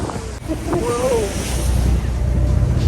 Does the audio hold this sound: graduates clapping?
no